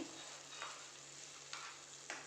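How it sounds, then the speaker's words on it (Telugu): An egg fries in a pan for egg fried rice, a soft, steady sizzle with a few light scrapes as it is stirred and broken into pieces. "తర్వాత మూత తీసేసి ఇలాగ వేగి ఉంటుంది ఎగ్"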